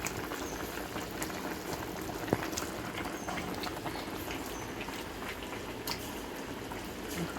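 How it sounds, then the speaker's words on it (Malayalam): A homestyle fish curry base of onion and tomato boils in the pot, giving a quiet, continuous bubbling simmer with an occasional sharper pop and no talk. "ഉള്ളിയും തക്കാളിയെല്ലാം നന്നായി തിളച്ച് വന്നിട്ടുണ്ട്."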